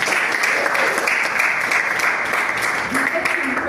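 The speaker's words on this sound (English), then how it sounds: "let's give him a thunderous round of applause" A Toastmasters club audience claps together in a dense, sustained round of applause that holds steady at full strength throughout, without voices coming through.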